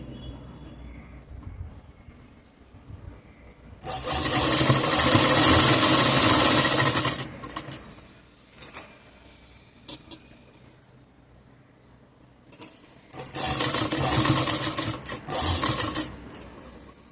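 A sewing machine stitches a zipper pocket onto pants in two loud, rapid runs of a few seconds each, separated by quieter handling noises and light clicks, with no talk.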